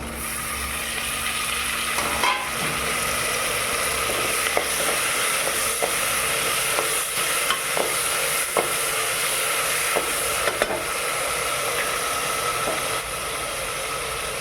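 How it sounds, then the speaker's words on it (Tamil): Tomatoes fry in a pan for sambar vegetable rice, a steady close sizzle with occasional scraping stirs and clinks, continuous and fairly loud, no talk. "தக்காளி போட்டு வேகட்டும்."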